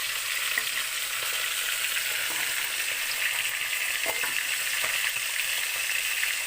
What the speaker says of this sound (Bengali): একটু মাছগুলো একদিকে ভাজা হয়ে গেছে, এখন উল্টে দেবো সুন্দর করে